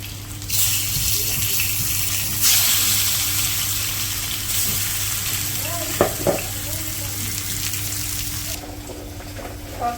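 Fish and potatoes frying in spices in a village kitchen at night: close, steady sizzling hiss with surges as food is stirred, a low hum beneath and a few brief clinks.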